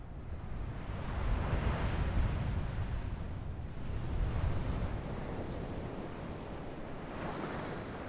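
Surf breaking in broad washes on the Valdes Peninsula coast in Patagonia, swelling and receding in slow waves with some wind rumble, steady and fairly close throughout.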